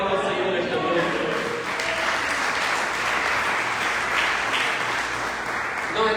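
A church congregation applauds at an evening revival celebration service in Manaus, Amazonas, with steady, dense clapping throughout and voices mixed into the ovation.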